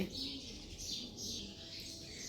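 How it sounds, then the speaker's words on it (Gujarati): Sparrows chirp in quick, bright bursts, several birds twittering together against a quiet outdoor background. "તો તમે જોયું સવારથી કેટલી સરસ મજાની ચકલે બોલી રહી છે"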